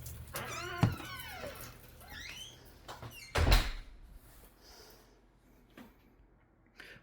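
House tour door in a c.1891 St. Louis home, with a few creaks and squeaks followed by a heavy thump as it swings shut, plus some scuffling of feet, fairly quiet and close.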